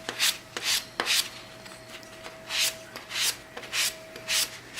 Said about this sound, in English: I always use a fine sanding sponge before I go out to the paint shop